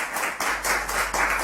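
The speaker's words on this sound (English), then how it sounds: "Put your hands together for Prof." An audience applauding a presenter at a studio investment panel discussion, with loud, dense clapping in several quick surges and no voices.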